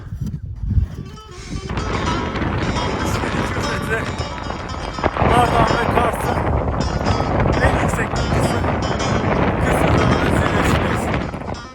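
Strong wind on a mountain hike buffets the microphone with a steady roaring rush that persists throughout, with faint voices barely audible beneath it.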